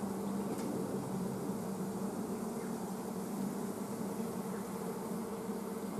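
Honeybees drone in a continuous, even buzz from an open hive as queens are removed, steady and close, with a faint low hum beneath and no talking.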